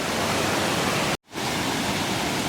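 Waterfall at Seethampeta Mettuguda in rainy weather, a loud steady roar of rushing water that cuts out briefly and then returns.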